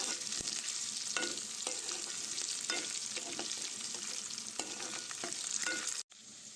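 Potatoes frying and being stirred in a pan, a steady dense sizzle with intermittent scraping stirs throughout, cutting out abruptly near the end before resuming.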